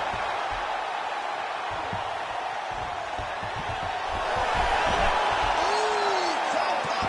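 Video game arena crowd in UFC 5 during a mixed martial arts bout, a steady roar of spectators that swells louder partway through as fans react to a fighter escaping a Kimura submission attempt.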